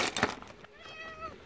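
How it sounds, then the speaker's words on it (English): A pet cat meows once indoors, a clear, fairly close call with a rising and falling tone after a brief burst of shuffling noise. "that's my kitty meowing"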